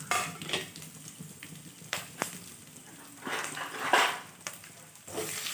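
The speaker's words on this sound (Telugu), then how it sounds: "ఆయిల్ మరిగిపోయింది. శనగపప్పు, మినప్పప్పు, ఆవాలు, జీలకర్ర అన్నీ వేసుకుందాం." Chana dal, urad dal, mustard seeds and cumin crackling in hot oil for a tempering, an uneven sizzle with sharp pops and spatters and some clinks of a spoon against the pan.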